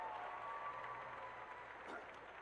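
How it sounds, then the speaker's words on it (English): An audience at a live gaming convention applauds teen costume contestants with steady, faint, distant clapping and no voices over it. "Let's give all of our teens a round of applause."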